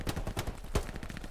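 Gunfire crackles in the World War II shooter Hell Let Loose, with dense, rapid overlapping shots and one sharper nearby crack standing out from the continuous exchange.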